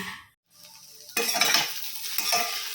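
Tender chopped okra (bhendi) hits a hot pan with a sudden sizzle, followed by steady frying hiss and a couple of scraping stirs of a spoon.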